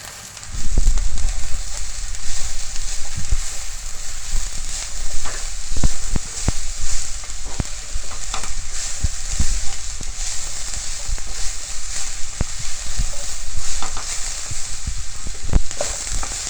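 Shredded cabbage frying in a hot pan for vegetable noodles gives a loud, steady sizzle with occasional scraping and stirring clatter throughout.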